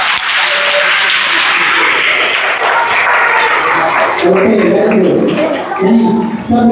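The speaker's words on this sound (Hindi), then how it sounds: "कितना मजा आएगा होगा ताली बजा के बता दो" Loud audience clapping fills a Republic Day school program in India, a dense, continuous burst of applause with faint voices and tonal sounds rising beneath it toward the end.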